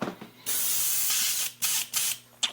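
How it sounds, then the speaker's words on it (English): Airbrush spraying water-based black paint onto a 7-inch glide fishing lure, a steady close hiss in several bursts of varying length separated by short pauses. "It sprays really well,"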